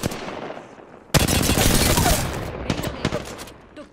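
Rapid automatic gunfire erupts in Apex Legends, a loud, close barrage that starts suddenly after quieter rattling and continues as a dense run of shots before thinning into scattered cracks.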